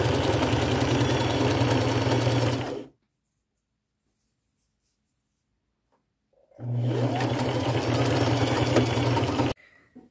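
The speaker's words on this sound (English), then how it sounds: "I will just take these little remnants over to my machine with me, and I will use a zigzag stitch" A sewing machine runs a zigzag stitch in gold thread, sewing fabric remnants onto a boho collage headband. It makes two steady, fairly loud bursts of whirring stitching separated by a few seconds of silence.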